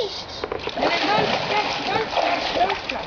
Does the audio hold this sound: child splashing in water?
yes